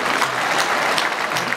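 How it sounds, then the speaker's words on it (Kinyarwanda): A crowd claps steadily for a child who has just recited a poem at a parish school event in Ruhengeri; the applause is dense and even for about a second and a half, with no talking over it. "Aka kana kacu mugaha amashyi menshi."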